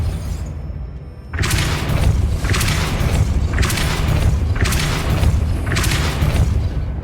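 Depulso spell cast in the Hogwarts Legacy video game: a run of loud, booming magical blasts, about four repeated bursts at steady intervals, close and forceful, with no speech.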